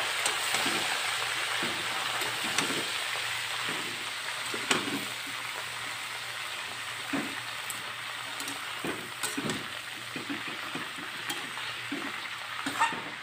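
Red amaranth greens seasoned with salt and turmeric are stirred in a pan, giving a soft, steady sizzle broken by irregular scraping and clinking strokes, with no one talking.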